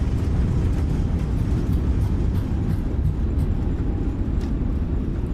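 Simulated roar of reverse thrust from an Airbus A320neo landing in Microsoft Flight Simulator, FlyByWire A32NX, arriving at Dusseldorf: a steady, loud broadband rumble holding at constant strength throughout.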